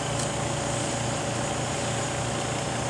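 The freezer compressor of an Mbraun Labmaster 130 glovebox running, a steady, even mechanical hum with a faint tonal whine and no talking.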